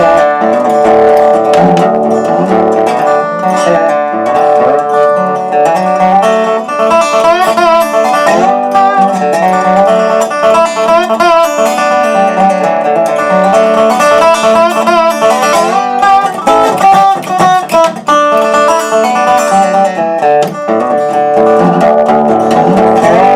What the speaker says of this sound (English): No, this is an instrument called a dobro.